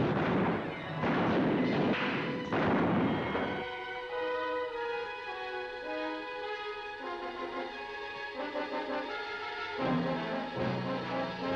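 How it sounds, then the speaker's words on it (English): Several heavy artillery blasts boom out in the first few seconds, fired on command, then give way to a lingering rumble with a sustained tonal hum. "Commence firing!"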